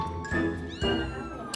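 Cats meow at a Thai cat breeder's home, with two clear, fairly close meows in quick succession and soft room noise between them.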